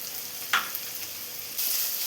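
Grated coconut and sliced onion sautéing together in a pan for egg thoran, a steady low sizzle with one sharp stirring scrape and a louder burst of frying near the end.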